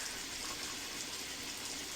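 Running tap water rinsing a facial tool, a soft continuous hiss and splash of flowing water, steady and fairly quiet, with no talking.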